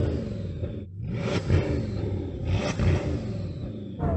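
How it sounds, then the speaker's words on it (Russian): A car engine idling and then revved, rising in two swells of rumbling, buzzing power with clattering texture, close and loud with no talking. "Так, теперь поддай, послушаем."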